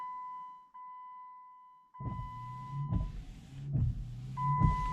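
Windshield wipers on a Jeep Commander XK sweep in repeated strokes about once a second, a close mechanical whir with a steady electronic tone running beneath, starting after a quiet opening.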